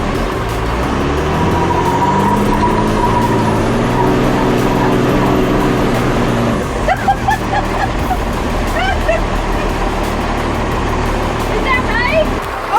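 Cummins diesel-swapped C10 truck held in a powerbrake, a heavy low engine roar with rumbling tire spin that drops away partway through, followed by excited voices and chatter.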